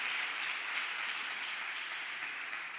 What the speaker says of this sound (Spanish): Vamos a darle un fuerte aplauso de honra al pastor Alejandro.